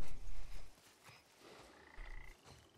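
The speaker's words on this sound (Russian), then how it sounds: "Лягухи, квакухи." Frogs croak in an outdoor area of the video game The Last of Us, with several low, throaty bursts that come and go over faint ambient sound.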